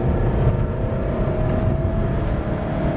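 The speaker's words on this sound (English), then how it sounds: "Squeezing back on the gas along the straight." A car on a Prodrive track day accelerates hard along a track straight, its engine roaring loud and close with a steady climbing drone and no talk.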